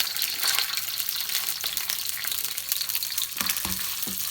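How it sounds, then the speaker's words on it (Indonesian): Shallots and garlic sizzle in hot oil, a dense steady crackling fry with a few clinks of stirring near the end. "Setelah panas, kita masukkan bawang merah dan bawang putih yang tadi setelah kita potong."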